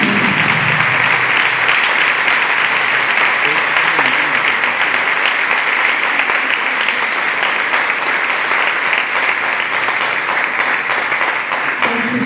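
A church congregation claps hands for Jesus during a sermon, loud, sustained applause from a large crowd that carries on evenly for over ten seconds, with voices faintly underneath.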